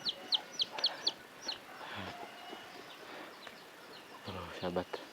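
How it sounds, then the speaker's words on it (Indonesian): Chickens cluck in quick bursts along a rural village footpath, several sharp calls clustered at the start and again near the end, moderately close over a hushed outdoor background with faint murmuring. "ayam"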